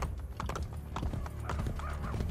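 Horse hooves clip-clop in the Assassin's Creed: Brotherhood video game, a close, fairly loud run of irregular hoof strikes with a brief whinny-like tone near the end.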